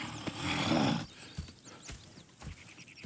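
In the video game Red Dead Redemption 2, a horse gives a loud, close whinny, followed by a few scattered hoof clops and snorts at moderate volume.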